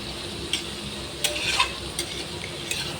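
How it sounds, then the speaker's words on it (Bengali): Onion and chilli fry over high heat in a pan, giving a soft, steady sizzle with a few faint stirring clinks. "ভালো করে পেঁয়াজ লঙ্কাটাকে ভেজে নেব"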